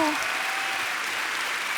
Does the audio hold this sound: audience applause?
yes